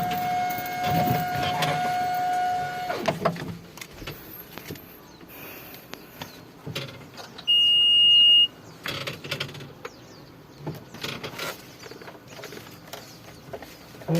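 Machine cab warning tones after the ignition switch is turned on: a steady electronic beep lasting about three seconds, then a second higher beep a little later, among clicks and handling knocks in the cab.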